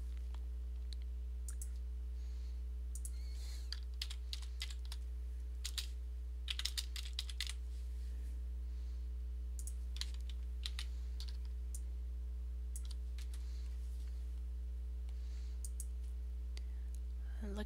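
Computer keyboard keys clicked in scattered quick bursts and single taps while entering shortcuts, faint against a steady low electrical hum.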